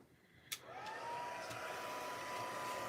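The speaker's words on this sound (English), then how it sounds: "I'm going to dry this with my heat tool" A heat tool drying gesso on a craft project switches on with a click, then blows a steady, whining hiss that holds evenly to the end.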